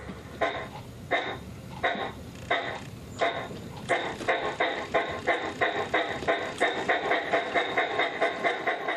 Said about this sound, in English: the big thing that you get with the DCC locomotives that you don't get on the analog ones is sound effects